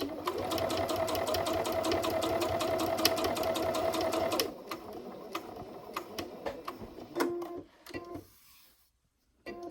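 A sewing machine stitches washable fabric wipes in a fast, steady mechanical run for about four seconds, then stops, leaving scattered clicks and handling noises before a brief silence.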